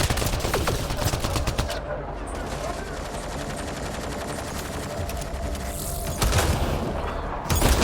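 Rapid bursts of gunfire in the sci-fi shooter Mass Effect: Andromeda, dense repeated shots layered over a busy game soundscape with louder volleys near the end, a voice speaking at times.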